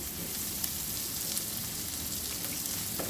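Onions frying in rice bran oil, part of a restaurant-style cow stomach dish, give off a steady, dense sizzle throughout with faint crackles, close and continuous, no voices.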